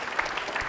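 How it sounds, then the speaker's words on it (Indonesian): Audience applause at a televised talent segment, a short steady wash of clapping from a crowd, fairly loud and without talk. "Tepuk tangan yang meriah"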